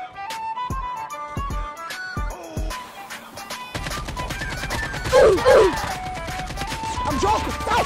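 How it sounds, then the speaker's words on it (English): Gunfire in Call of Duty Blackout, with scattered sharp shots early, then denser bursts and impacts among game sounds and a voice speaking over them. "Who the hell is shooting at me from over here?"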